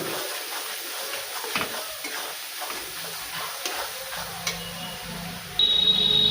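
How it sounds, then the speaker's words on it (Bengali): Chili powder and turmeric powder frying in a pan for a chicken and potato curry, with a soft steady sizzle broken by occasional scraping stirs and a brief louder burst near the end. "দিয়ে ভালোভাবে কষিয়ে নেব।"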